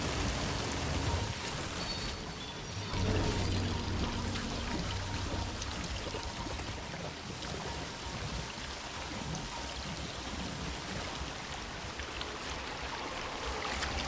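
Flowing water in the Outriders video game, a soft continuous splashing wash like pouring rain, quiet and steady, with a brief dip in level early on and faint game sounds mixed in.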